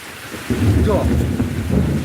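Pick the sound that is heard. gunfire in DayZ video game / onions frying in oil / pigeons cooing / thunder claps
thunder claps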